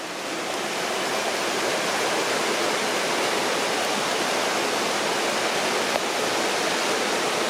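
River water pours over a weir in a loud, continuous broadband rush, close by and unbroken, with no voices over it.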